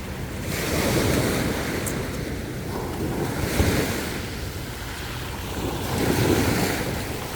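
Sea waves surge and wash ashore, a loud rushing roar that swells and recedes in broad pulses, with wind buffeting the microphone.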